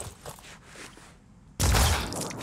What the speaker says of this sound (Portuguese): Um tiro de pistola.